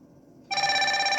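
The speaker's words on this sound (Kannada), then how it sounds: "ರಿಂಗ್ ಸೌಂಡ್ ಬಂದು ಆ್ಯಕ್ಚುಲಿ ಇದು ಸ್ಮಾರ್ಟ್ ವಾಚಿಂದಲೇ ಸೌಂಡ್ ಬರ್ತಾ ಇರೋದು ನಿಮಗೆ" An Ambrane Wise Eon Bluetooth calling smartwatch lets out its ringtone, a bright electronic trill that starts abruptly partway in and keeps ringing steadily and loudly, with nobody talking.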